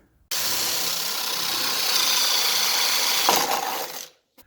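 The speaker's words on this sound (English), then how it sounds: "I'm ready to go ahead and drill the hole here." A power drill boring a hole into a lawnmower, a continuous close whining buzz lasting about four seconds that strains and roughens near the end before cutting off abruptly, with no speech.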